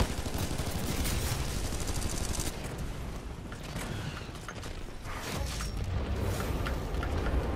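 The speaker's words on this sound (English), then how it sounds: "It's unbelievable the range these SMGs can be effective at." Rapid SMG fire in the shooter game Titanfall 2, a dense continuous rattle of automatic shots running loud and nearly unbroken across the whole stretch amid other game noise.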